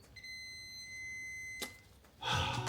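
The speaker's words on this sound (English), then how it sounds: "if I get a beep, it means that the fuse is working and it's not open circuit." A steady electronic multimeter continuity beep, testing a car fuse, holds for about a second and a half, then cuts off, followed by a short burst of rustling noise.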